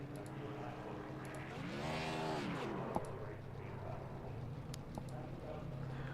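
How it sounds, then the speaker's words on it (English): A McLaren race car doing a burnout in a racing video game, its engine note rising and falling in a sweeping pitch over a steady background hum, moderately loud, with a voice talking around it. "That is a heck of a burnout"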